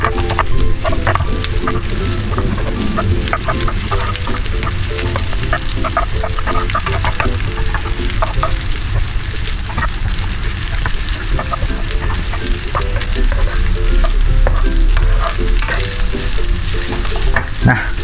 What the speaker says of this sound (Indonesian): Karena udah pas, kita nggak usah tambahin bumbu lagi, tinggal diaduk aja sampai rata.